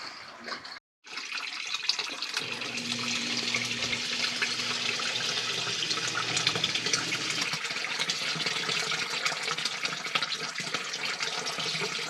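A basement sump pump runs while water drains from a water heater tank: a steady, close rushing wash of water with a low motor hum beneath, holding unbroken for about eleven seconds after a brief silent gap near the start.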